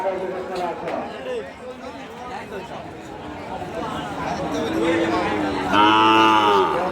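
Cattle moo loudly at a busy rural cattle market in a border area, with a long low call rising near the end over steady crowd chatter and nearby voices.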